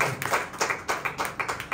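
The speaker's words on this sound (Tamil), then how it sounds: "கைத்தட்டி ஆண்டவரை மகிழ்ச்சி" Hands clapping in a rhythmic run of about ten sharp, evenly spaced claps during a church service, fairly close and clear with no talk over them.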